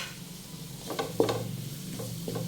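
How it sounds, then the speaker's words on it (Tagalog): Ginger stirred into mixed seafood in a pan with butter: a soft continuous sizzle under a few scraping stir strokes clustered near the middle, close up and without any talk. "So mix lang nato ni mga luya."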